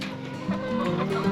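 Whiting True Blue hens in the larger of two 10-by-10 adult coops clucking softly and continuously, several birds close by with overlapping low murmurs and no talk.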